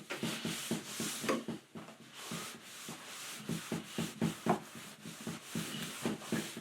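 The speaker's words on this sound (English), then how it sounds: "and then just come in and wipe it off. And you can see it takes off most anything that's on there. Might have to scrub just a little bit" A motorcycle fuel tank is scrubbed by hand with S100 engine brightener, making close rhythmic rubbing strokes at a steady back-and-forth pace with no talking.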